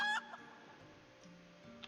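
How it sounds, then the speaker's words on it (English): A chicken clucks from inside a carried sack in a video game, giving a few soft muffled clucks over a quiet game background after a brief louder chime at the start. "Delivering the clucking sack to the poultry man."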